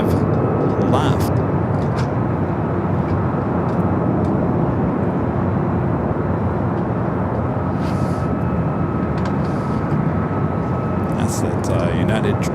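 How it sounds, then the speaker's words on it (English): A United Boeing 777 airliner landing at LAX on the south side, heard as a continuous loud jet roar with a steady engine drone and no clear change for the whole stretch. "That's that United 777 that did that go round, landing successfully there on the south side."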